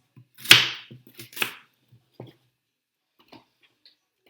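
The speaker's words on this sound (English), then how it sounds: "chop them into good sized rounds" A knife chops vegetables into thick rounds for a roast vegetable pasta bake, giving a few sharp, close taps on a board, two louder cuts followed by sparse quieter ones and pauses between.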